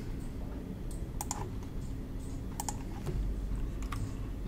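Computer keyboard being typed on in steady bursts of close clicking keystrokes over a constant low background hum, no talking.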